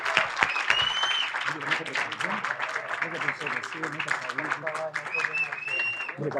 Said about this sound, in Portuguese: queria que a gente terminasse com um aplauso bem forte para o fórum e principalmente para o nosso querido Danilo